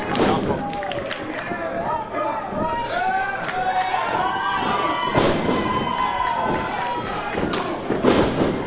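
A wrestling crowd at a Nikos Rikos versus Mantis match cheers and shouts loudly throughout, a dense roar of many voices with occasional thuds, close and continuous.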